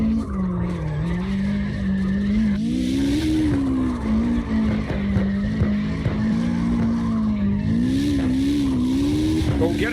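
Cars drifting in the CarX Drift Racing video game: a loud, continuous engine drone with steady tire squeal and skidding through the whole stretch, the pitch rising and falling as the cars slide, with a voice talking over it.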